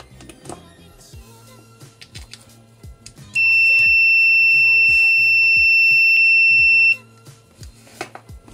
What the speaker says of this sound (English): the buzzer is making a sound